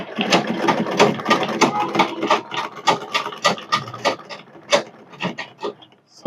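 A zig zag sewing machine stitching a buttonhole runs close and steady, its needle clattering in quick rhythmic bursts with a few short pauses and a final click.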